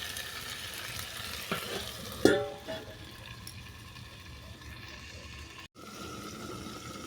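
A pot of chicken curry with taro being stirred, with a few sharp utensil scrapes and clinks over a steady low simmering hiss, then a brief gap near the end as the lid goes on.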